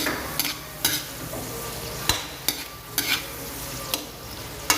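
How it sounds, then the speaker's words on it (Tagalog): Shrimp sautéing in a pan, a close sizzle broken by several sharp stirring scrapes and clacks of a utensil at irregular intervals, no talk. "ang ating hipon na ginisa muna."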